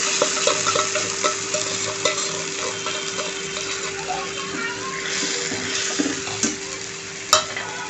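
Tomato paste frying with golden brown onions in a pan, a steady loud sizzle throughout with light stirring scrapes and a sharper clink near the end, close up.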